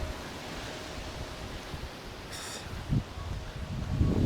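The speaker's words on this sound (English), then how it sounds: "This wind is a little too precarious." Strong gusts from Storm Kristin roar steadily through fig trees at a Portugal home, a dense rushing hiss with surging bursts near the end.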